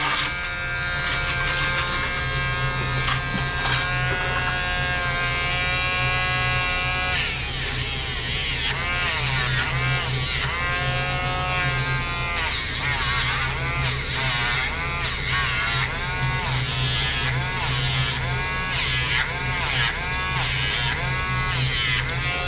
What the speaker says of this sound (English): You don't want to hold Dremel nail file on the nail too long.